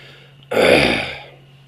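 A single raspy throat clearing, close and fairly loud, lasting about half a second before trailing off into quiet.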